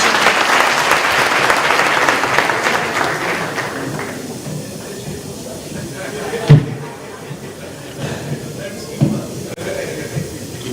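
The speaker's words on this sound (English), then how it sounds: "Please give him a warm round of applause as he comes to welcome us all officially." Warm audience applause welcoming a speaker at a school reclassification launch, loud sustained clapping from a crowd that gradually fades, followed by a sharp thud and quieter room noise.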